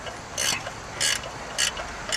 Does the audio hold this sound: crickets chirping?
no